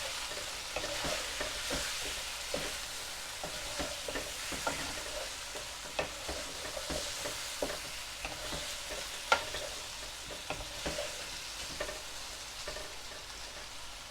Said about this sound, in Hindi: इसको अच्छी तरह मिक्स कर दें।